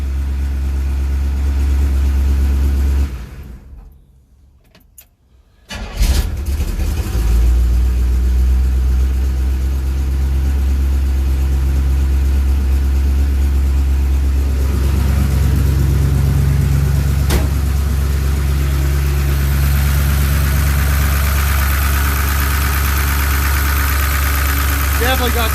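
1967 Chevrolet C10 pickup engine idling after a camshaft change, a loud steady rumble that cuts out briefly near the start and then settles into an even idle with light ticking and some talk over it.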